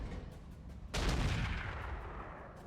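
Weapon fire in the RogueTech BattleTech mod, a mech firing on an enemy Mantis: a sharp heavy blast at about one second with a long rumbling decay after quieter background battle noise, no talking.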